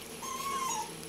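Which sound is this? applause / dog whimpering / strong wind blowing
dog whimpering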